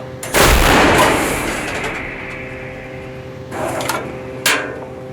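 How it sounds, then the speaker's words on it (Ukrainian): A Bohdana self-propelled howitzer fires a single loud artillery shot, a heavy blast that rolls and decays over a couple of seconds, followed by mechanical clanks and a sharp metallic knock. "Гармата! Постріл!"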